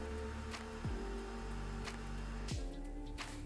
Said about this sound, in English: this is the sound of the air pump